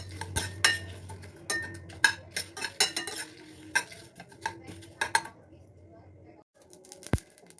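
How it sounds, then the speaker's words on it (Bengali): A metal spoon stirs spices dry-roasting in a pan for amla pickle, giving quick bright scraping clinks in an uneven rhythm, close and fairly loud, then a pause and one last sharp tap as the stirring stops. "মশলাটা আমার ভাজা হয়ে গেছে, আমি নামিয়ে নেব।"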